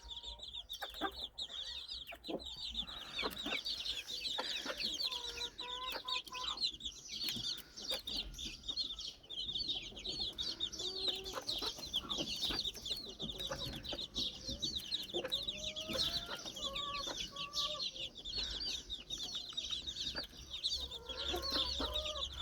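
Gray Ataks chickens and their chicks cluck and chirp steadily at close range on a poultry farm, with peeping chicks and hens' clucks overlapping throughout and no one speaking.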